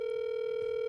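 A telephone call goes unanswered and rings through toward voicemail as a steady, unbroken electronic tone holding at one pitch, moderately quiet, with no voices over it.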